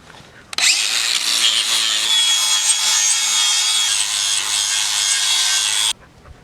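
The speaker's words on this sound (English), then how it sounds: "I'm gonna use this DeWalt grinder to grind on it" A DeWalt grinder shapes a wooden bow limb cut from a hardware store board, a loud, sustained abrasive rasp that starts abruptly and runs steadily for about five seconds before stopping sharply.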